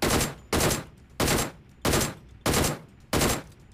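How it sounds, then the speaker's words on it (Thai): Six evenly spaced bursts of automatic gunfire ring out in PUBG Mobile as suppressive fire, each loud, close and sharp, with short gaps between them and no talking. "ผมต้องยิงกดเขาไว้ก่อนนะ ไม่ให้เขาโผล่ขึ้นมายิงเพื่อนนะครับ"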